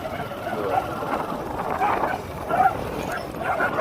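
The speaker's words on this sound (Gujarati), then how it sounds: "કૂતરા તો બાધે જ છે" Several dogs bark and yip in short repeated bursts at the edge of a village, moderately close, over a steady rumble of background noise.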